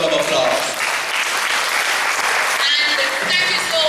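An audience at a high school retirement function for a teacher gives a loud, continuous round of applause, with voices calling out over the clapping.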